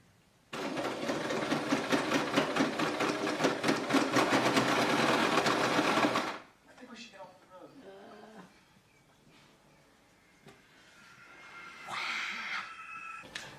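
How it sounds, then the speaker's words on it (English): A sewing machine stitching a skirt hem runs steadily and loudly for about six seconds, then stops, followed by quiet handling noises and fabric rustling. "just go back to the sewing machine and fix this up"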